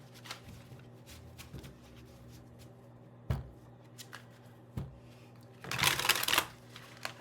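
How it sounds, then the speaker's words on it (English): Tarot cards being shuffled by hand close up, with a few sharp isolated snaps and taps followed by a brief dense riffling burst, quiet otherwise. "Okay, almost done shuffling here."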